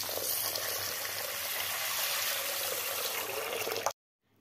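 Rice is washed in water for a mung lentil kheer, a steady rushing, sloshing wash of water that runs continuously and then cuts off abruptly.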